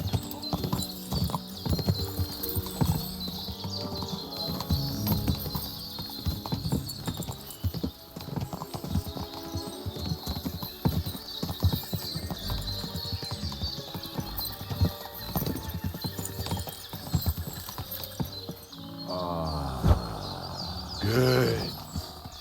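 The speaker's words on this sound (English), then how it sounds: "Watch out with that horse!" Horse hooves clip-clopping on a road in the medieval game Kingdom Come Deliverance II, a steady rhythmic clopping that runs throughout, close and fairly loud, with birdsong and ambient outdoor sound around it.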